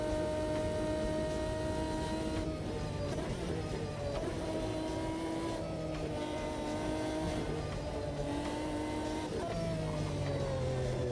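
Lamborghini race car engine in the Automobilista 2 racing game, a harsh, loud, continuous snarl with repeated upshifts and revs rising and dropping in steps, heard alone without talk.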